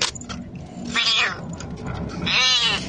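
A cat with its head stuck in a small hole in a door lets out two loud, drawn-out distressed meows, one after the other, with faint background noise between them.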